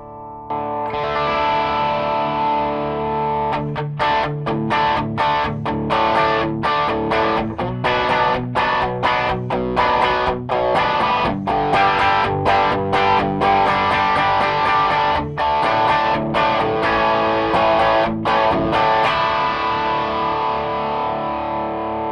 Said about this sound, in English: I'm gonna let you listen to that sound now.